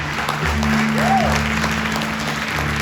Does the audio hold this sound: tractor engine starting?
no